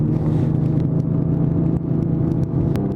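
A Lamborghini Diablo's rear-mounted engine rumbles steadily with a deep, constant drone and a faint whir, loud and close, with no talking.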